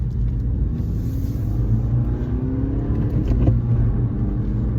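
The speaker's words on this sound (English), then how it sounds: "So I park in the parking garage" Car engine rumbling steadily as the vehicle drives and parks inside a parking garage, a continuous low drone with slight swells in engine pitch, close and fairly loud throughout.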